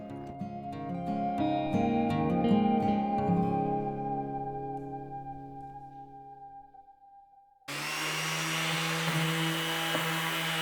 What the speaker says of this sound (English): I took it outside so that I could sand off some of these burn marks and watermarks